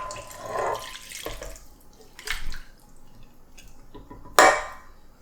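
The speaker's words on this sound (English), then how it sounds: "You're gonna pour the whole thing in, the fish and the liquids." Canned mackerel and its liquid are poured into a kimchi stew pot in a few separate glugs and splashes, the last one a sharp, loud plop, with quiet gaps between.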